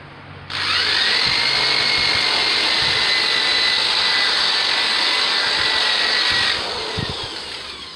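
A power tool whirs at steady high speed against a brake rotor on a car's axle hub, starting abruptly, running loud and close for several seconds, then winding down with a few clanks.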